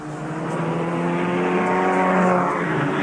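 Mitsubishi Starion race cars roar past at speed on the Brands Hatch circuit during a 1987 touring car race, a loud, sustained engine howl that swells and shifts in pitch.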